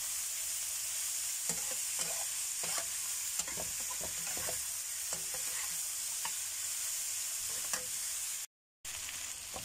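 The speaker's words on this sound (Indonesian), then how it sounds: "Lanjut kita aduk." Bitter melon and smoked fish stir-fried in a pan, with a steady sizzle and repeated close scraping stirs throughout, broken by a brief silent gap near the end.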